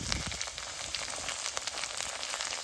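Coriander leaf paste frying in a pan for a pickle, with garlic already cooked in, gives a steady close sizzle and crackle that holds even throughout, with no voices.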